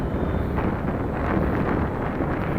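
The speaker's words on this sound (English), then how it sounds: "That wind is just really beating it up good." Moderate wind buffeting an RC SuperEZ model plane in flight, a steady loud rumbling roar of gusts battering the microphone with no voices.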